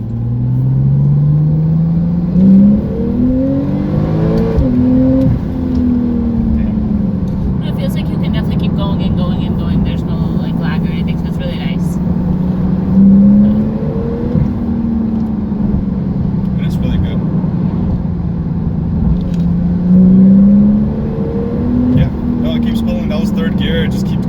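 A Porsche Turbo S engine drones and climbs in pitch as it revs up through the gears, several slow rising sweeps with drops at each shift, heard loudly from inside the car.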